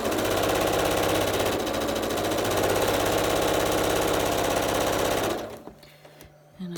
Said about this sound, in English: So we're going to sew this down the side.